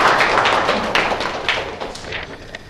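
A seminar audience claps to welcome a speaker. The clapping is steady and fairly close, with dense overlapping claps that slowly fade toward the end.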